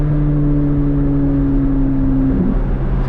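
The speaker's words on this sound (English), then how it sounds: "Do you guys hear that? The induction noise? Sounds like we're in a spaceship." Steady, loud drone of a naturally aspirated BMW M4 Competition engine under acceleration, a smooth humming induction tone that holds level and dips slightly near the end, with no voices over it.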